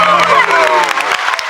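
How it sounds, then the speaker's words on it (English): A round of applause welcoming a new podcast co-host, loud close clapping mixed with crowd noise and a bit of cheering, fading somewhat toward the end. "So why don't we give him like a round of applause?"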